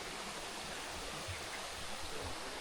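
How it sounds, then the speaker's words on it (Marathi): A small Konkan stream flows beside a hut site in the rainy season, its water rushing in a soft, steady wash of noise, faint and unbroken. "इकडे हा बाजूलाच आहे ओढा"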